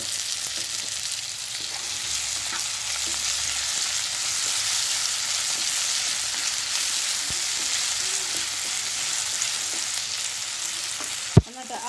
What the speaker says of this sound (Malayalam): കരിയാപ്പില ഉള്ളിയും കൂടെ നല്ലതുപോലെ ഒന്ന് വഴന്ന് വരുമ്പോൾ നമുക്ക് അതിലേക്ക് ഒരു തക്കാളി അരിഞ്ഞിട്ട് കൊടുക്കാം.